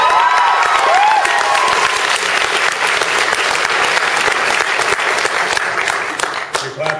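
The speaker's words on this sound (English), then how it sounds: "You're clapping for yourself." A crowd at an author event for a bestselling co-written novel breaks into loud, sustained applause with some cheering, and voices are heard faintly mixed in with the clapping.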